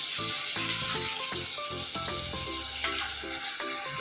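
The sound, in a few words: frying ground tomato, onion and fennel paste in oil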